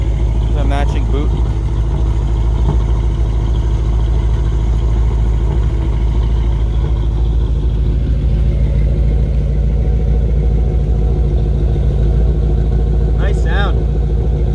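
A 1937 Ford convertible engine idling close by with a steady, low rumble through the whole stretch, while people talk over it.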